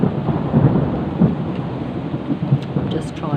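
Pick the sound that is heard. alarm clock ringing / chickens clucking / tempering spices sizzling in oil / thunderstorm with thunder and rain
thunderstorm with thunder and rain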